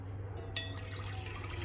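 Water trickles and pours steadily into a cooking pot, a soft, close, continuous liquid splash over a low background hum.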